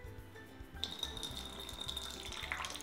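Pasta water pours out of a plastic microwave pasta cooker into a sink in a thin, steady trickling stream, faint and close, without talking.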